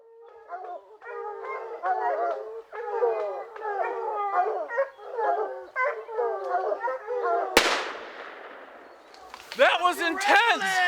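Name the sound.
hunting rifle gunshot at game animal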